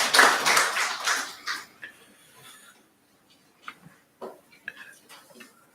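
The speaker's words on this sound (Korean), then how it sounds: "우리 하나님께 다시 한번 영광의 박수 올리겠습니다" Church congregation clapping during a Sunday worship service, a brief loud burst of applause at the start that quickly fades, followed by scattered light taps and small sounds in a quiet room.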